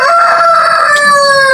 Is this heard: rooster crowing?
yes